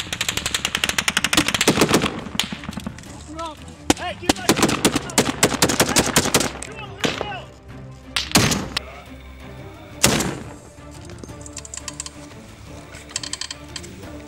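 Heavy gunfire from a Barrett sniper rifle rings out as a string of sharp, loud reports, dense at first and then spaced into single shots with gaps between them.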